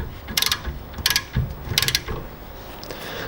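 A wheel stud from a stud-and-nut conversion kit is tightened onto a car hub, with three sharp ratcheting bursts spaced about three quarters of a second apart, close up and without any talk.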